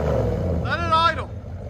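A 1984 Chevy Caprice Classic with a 350 V8 and true dual straight-pipe exhaust idles with a loud, steady low rumble. A voice speaks over it briefly near the middle.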